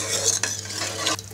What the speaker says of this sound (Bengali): এবার সব কিছু একসাথে ভালো করে নেড়ে নিব।